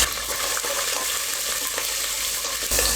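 Green chillies go into urad dal frying in hot oil, giving a steady, close, loud crackling sizzle with light stirring throughout and a brief burst of spatter at the end.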